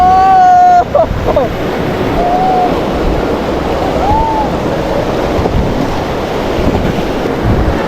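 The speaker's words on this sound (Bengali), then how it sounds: "এখন আবার অলরেডি আবার চলে আসছে ঢেউ, বড় বড় ঢেউ আসছে" Big waves break in a steady roaring wash under gusting wind noise, with brief whistle-like tones near the start and a couple of faint voiced sounds over the surf.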